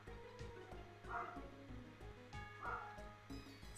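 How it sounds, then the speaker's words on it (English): Several dogs barking in the background during a gaming session, faint and distant, a steady run of short yips and barks repeating through the whole stretch with no voice over them. "Stop barking, dogs!"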